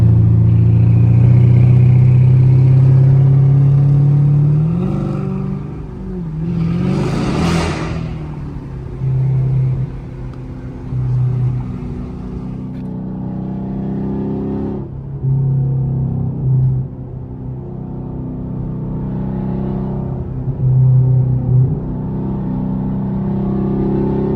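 A Chevrolet Camaro SS with a 6.2L V8 drones steadily at highway speed, its low engine rumble loud and close throughout, with a brief rising surge of revving partway through and no talking over it.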